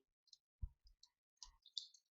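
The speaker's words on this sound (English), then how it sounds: "I'll go ahead and type that into the calculator" Keys pressed on a calculator keypad, a handful of soft, crisp clicks in an uneven rhythm, close and very quiet against near silence.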